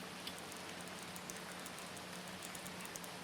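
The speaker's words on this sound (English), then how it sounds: "The rain is still falling, softly this time" Soft rain falls steadily in an AI-made visual novel game, a faint, even hiss with scattered light drop ticks, calm and continuous throughout.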